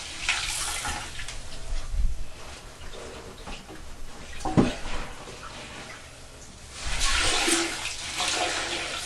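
Water gushing out of a toilet tank while the flapper is held open, a steady rushing drain with a couple of louder surges, heard up close in a bathroom.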